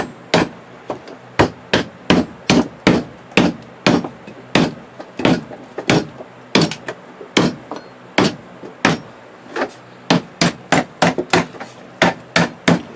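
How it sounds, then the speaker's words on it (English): A hammer drives nails into wooden foundationless beehive frames, a steady run of sharp, loud, close strikes in quick rhythmic groups with brief pauses, no talking. "You got to make sure you hit it on that bar, because if you don't, it will break."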